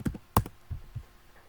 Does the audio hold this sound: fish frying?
no